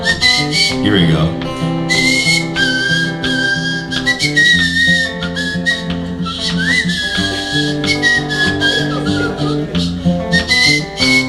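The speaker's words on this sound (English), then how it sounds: "I have my whistle up" A whistle plays melodic lines during a live song at a Nashville venue, bright sustained tones gliding over a band accompaniment, prominent and near, with brief pitch slides.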